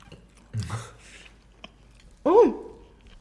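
Crunchy fried chicken from Zaxby's being chewed up close during a mukbang, two soft crunching bites separated by a pause, fairly quiet with faint breath between.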